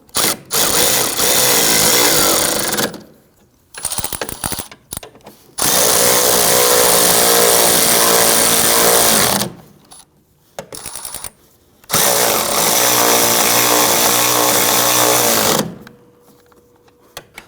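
A power tool snugs down new 10mm bolts on the front strut of a 2009-2017 Volvo XC60, three loud, close whirring bursts of several seconds each, separated by short pauses and brief clicks.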